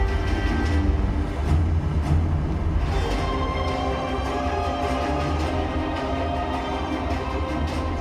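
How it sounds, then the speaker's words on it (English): Electric towing locomotives known as mules hauling a large ship through the Panama Canal locks, a steady loud rumbling drone with a low machinery hum that continues without a break and has no talk over it. "Some people call locomotives mules, after the animals that worked early day canals."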